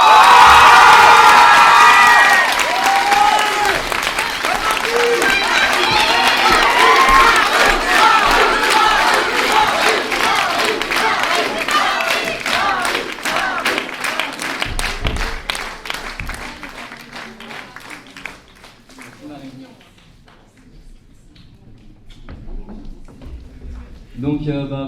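A crowd bursts into loud cheering, whoops and shouts over sustained applause for Marie at the end of a show, with dense clapping that gradually dies away to scattered claps and quiet.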